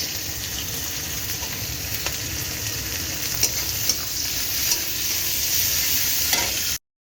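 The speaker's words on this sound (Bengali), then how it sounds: "এই মাশরুমটা পুরো ভাজা ভাজা হবে" Mushrooms fry steadily in a pan with plenty of chopped green chili, garlic and onion, a continuous dense sizzle with occasional clinks and scrapes of stirring, close and fairly loud, with no talking.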